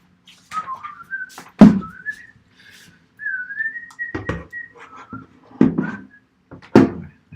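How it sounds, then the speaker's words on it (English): A person whistles a meandering, unhurried tune indoors, clear and close, with short pauses between phrases and a few knocks and clicks in between. "I shouldn't whistle."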